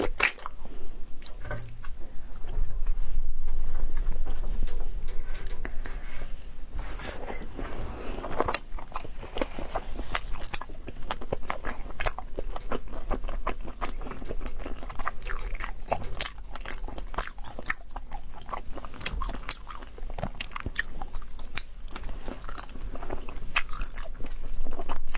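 Close, dense eating sounds of raw shrimp, fried fish, spicy noodles and chicken eggs being bitten and chewed, with crunchy, wet crackles running continuously through the stretch and no talking.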